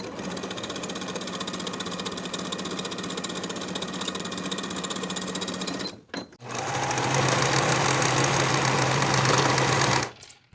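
A sewing machine stitches a dress panel seam at a 1/2 inch allowance, running loud and steady at close range, briefly stopping, then resuming at a slightly higher, stronger pitch before cutting off near the end.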